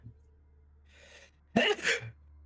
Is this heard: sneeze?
yes